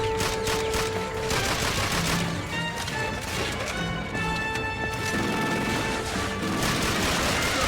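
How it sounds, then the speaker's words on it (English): Machine gun fire from a mounted MG in the World War II shooter Call of Duty: Finest Hour, Western Africa campaign, with dense rapid bursts and battle clutter running continuously throughout, no talk. "someone's on the MG again"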